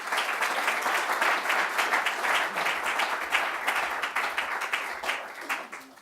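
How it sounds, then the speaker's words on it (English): Steady, dense applause from an audience at a football championship draw, sustained clapping at moderate level that tapers off toward the end. "Round of applause, please."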